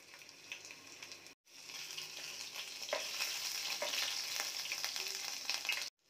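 Cumin and grated ginger sizzle in hot peanut oil, a steady close crackle with brief breaks and some stirring.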